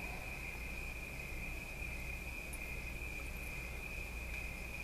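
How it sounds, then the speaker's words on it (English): Crickets chirp in a steady, continuous high trill against a quiet background, a constant night-insect drone with no voices. "Enjoy the crickets."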